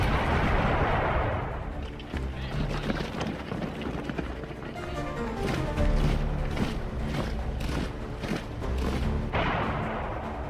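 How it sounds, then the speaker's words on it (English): Cannon fire from Second World War footage of the opening shots on Danzig comes as dense, rumbling booms and blasts over a thick, continuous roar of battle noise. "The first cannon shot of the Second World War is fired on Danzig."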